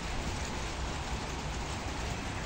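Rain falls outdoors in Kuwait as a steady, dense hiss of drops on surfaces, loud and unbroken for the whole stretch, with no voices.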